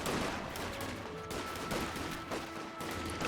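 Dense, continuous gunfire from infantry units fighting around a church in the Company of Heroes 2 real-time strategy game, a loud, overlapping crackle of many shots that stays thick for the whole stretch.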